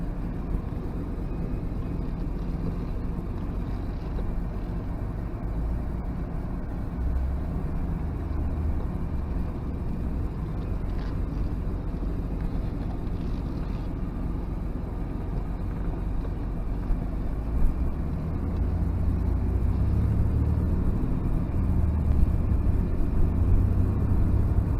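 1990 Nissan Fairlady Z Twin Turbo driving, a steady low engine drone and road rumble heard from inside the car, growing somewhat heavier near the end as it gathers speed, with no talking.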